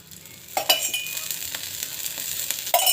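Oil sizzling on a hot tawa while making rice flour roti, a soft steady sizzle punctuated by several sharp scraping and clinking utensil hits, close by.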